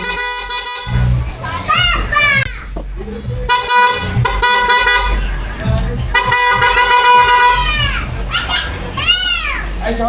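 A loud aftermarket PIAA horn fitted to a Honda Giorno scooter blares in repeated short and longer toots, with a voice and other chatter mixed in between the blasts.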